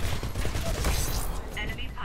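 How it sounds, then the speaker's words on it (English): Chain gun firing in Titanfall, a rapid continuous rattle of shots mixed with mechanical clatter and battle noise, loud and close throughout, with voices partly audible underneath. "It's been ages since I've used the chain gun."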